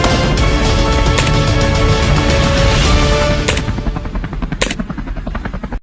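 A loud helicopter rotor chops steadily up close during a feral pig hunt in Georgia, with sharp bursts of gunfire cracking through the drone.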